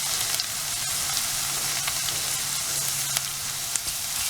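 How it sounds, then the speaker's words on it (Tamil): Ginger garlic paste fries in a hot pan with onions for chicken kothu curry, giving a steady close sizzle with occasional stirring scrapes and no talk. "நான் இப்போ அந்த இஞ்சி பூண்டு பேஸ்ட்டு போடுறேன்."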